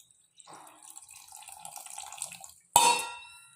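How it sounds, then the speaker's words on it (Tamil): Dissolved tamarind water is poured into a pot of bottle gourd sambar as a soft splashing stream for about two seconds, followed by a sharp metallic clang of a utensil and no speech. "இப்போ புளியை ஊற்றியாச்சு"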